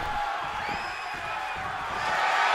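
Crowd roar from a WWE 2K24 video game wrestling match, a steady dense wall of cheering and whoops that holds throughout and swells slightly near the end, with a voice faintly under it.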